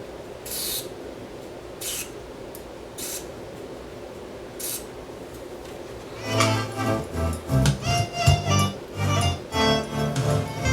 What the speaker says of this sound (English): we're going to get some cleaner into this output level control